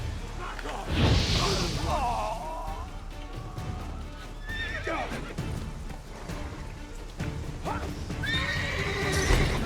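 Roach, a horse in the video game The Witcher 3, neighs and whinnies several times amid clip-clopping hooves and scuffling, the calls loud and close, with a voice speaking in between.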